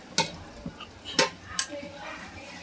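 Spoon clinks and stirring scrapes against a pan as chilli, garlic and ginger paste is mixed into simmering gravy with pigeon peas and peanuts, a few sharp metallic taps spaced over soft background noise.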